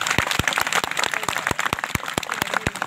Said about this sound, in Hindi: अच्छी लग रही हो तो ताली बजाई